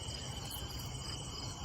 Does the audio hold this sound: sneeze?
no